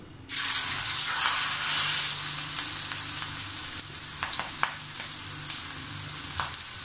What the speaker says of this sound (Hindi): ऑयल को मैंने गरम कर लिया है और ये मैं उसके ऊपर इस तरह रख दूँगी सीधे